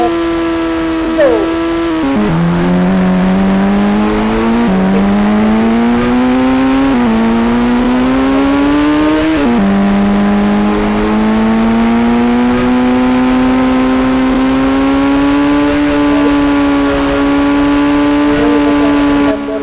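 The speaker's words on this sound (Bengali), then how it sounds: "আমাদের এই ল্যাম্বরগিনিটাকে ফুল স্পিডে চালাতে হবে এই ফাঁকা রাস্তায় আমাদের ফুল স্পিডে চালাতে হবে" A Lamborghini engine roars continuously on an open empty road, pitch climbing in repeated surges with gear-change dips as it accelerates hard toward full speed, loud and close throughout.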